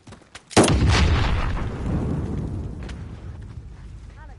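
Explosives detonating in a video game: a short click, then one loud booming blast that rolls and decays over several seconds into a rumbling tail, with faint game sounds and no clear talk.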